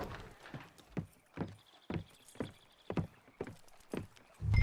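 Horse hooves clip-clop in a steady galloping rhythm in Red Dead Redemption 2, close and fairly loud, with faint game ambience and a brief low thump at the end.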